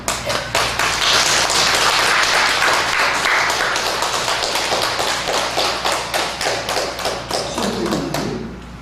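A church congregation at a Sunday worship service breaks into a long burst of loud applause, dense clapping that fills the room steadily before thinning into scattered claps near the end.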